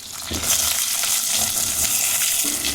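Chopped small onions fry in hot oil for a brinjal and potato kuzhambu, giving a steady close sizzle with scraping and stirring sounds over the top.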